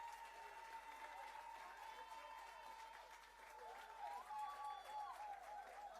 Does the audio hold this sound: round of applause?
yes